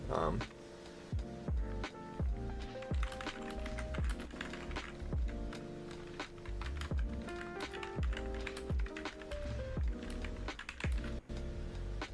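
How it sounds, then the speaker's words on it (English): Fast, clattery typing on the stock keyboard of a new Asus computer, with dense irregular keystrokes and a few louder thumps, running continuously at close range. "This is the keyboard that came with my new Asus."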